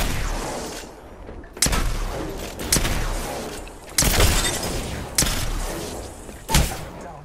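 Heavy gunshots boom in Apex Legends, five or six loud separate blasts spaced about a second apart over a rumbling game background.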